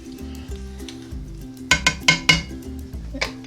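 Clam juice and wine mixture sizzling in a hot pan for linguine with white clam sauce, a steady close hiss under background music, broken by several quick metallic clinks of a utensil against the pan.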